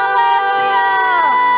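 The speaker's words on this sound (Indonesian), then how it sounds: "sorakan haleluya" Children's congregation at a Good Friday kids' church service shouting a loud, sustained hallelujah cheer together, many young voices blending into one bright crowd roar.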